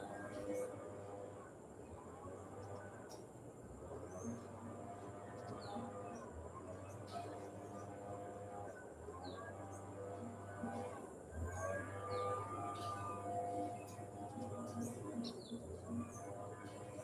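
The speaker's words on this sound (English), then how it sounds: "you can hear the national bird of Costa Rica" Faint bird calls chirp repeatedly over a low steady hum in Costa Rica, with scattered short tweets coming from some distance.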